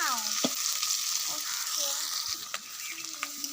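Chopped vegetable stems with green and dry chillies and bay leaf frying in hot oil in a wok, a steady hissing sizzle with occasional utensil knocks and brief stirring scrapes, close and even.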